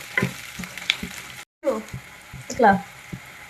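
Slit green chillies fry in hot oil, making a continuous crackling sizzle up close, with spatula scrapes and clinks breaking in at intervals. A voice can be heard in the background.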